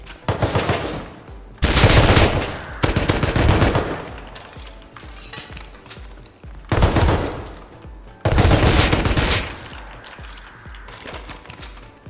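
Gunfire rips out in the video game Rust: several loud bursts of rapid automatic fire come at irregular intervals, with quieter pauses and scattered distant shots in between.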